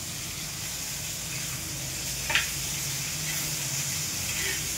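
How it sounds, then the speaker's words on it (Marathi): Fish frying in a pan into a crispy fry gives off a steady, close sizzle that holds level throughout, with one brief sharp tick partway through and no talking. "एवढी मच्छी फ्राय करायची आहे मला बघा."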